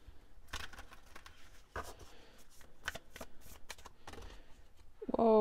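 A tarot deck is shuffled up close in a run of quick, crisp riffling bursts separated by short pauses, with a brief louder sound at the very end.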